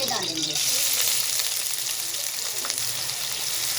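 Chopped onion, one normal-size onion, sizzles steadily in about 50 grams of hot oil in a home kitchen, a constant close frying hiss with light stirring.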